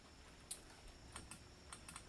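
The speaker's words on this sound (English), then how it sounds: "if you wanted to search by name, you would just go and start typing in the name" Faint, quick keyboard taps click in an irregular run of about half a dozen keystrokes, close by with no talking.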